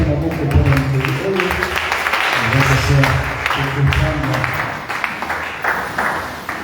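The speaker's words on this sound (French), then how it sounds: "Acclamez pour cette écriture" A church congregation applauds in a long, steady wash of clapping that swells and eases, with voices mixed into the crowd noise.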